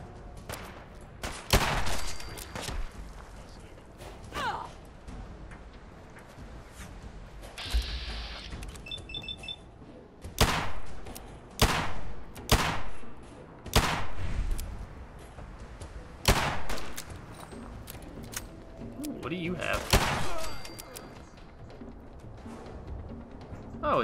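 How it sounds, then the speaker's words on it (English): A modded hero's revolver fires in Fallout 4 as repeated loud, slow-spaced shots ring out over busy game combat noise, with other weapons and impacts in the mix. "the hero's revolver is a little slow, but that's because it's a revolver."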